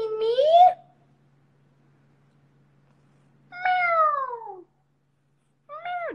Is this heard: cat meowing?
yes